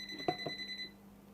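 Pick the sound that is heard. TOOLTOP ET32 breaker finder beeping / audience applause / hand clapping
TOOLTOP ET32 breaker finder beeping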